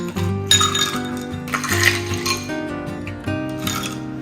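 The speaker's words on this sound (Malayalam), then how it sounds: "ഇനി നമുക്ക് കുറച്ച് ഐസ് ക്യൂബ്സ്" Ice cubes drop and clink into a glass of mint lemonade in several bright, quick hits, set against a steady background of music.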